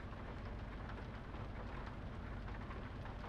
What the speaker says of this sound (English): It's raining. I love it.